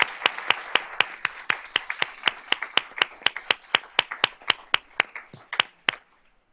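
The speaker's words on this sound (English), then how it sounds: "So let's give these ladies a round of applause." A small group applauds at a school board of trustees meeting, with steady, clearly separated claps close by for about six seconds that then stop abruptly.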